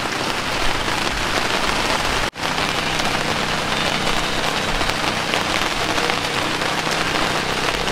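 Heavy rain pours steadily onto surfaces at a riverside home in rural Vietnam, a dense, continuous hiss that fills the scene with only a brief dropout partway through and no voices.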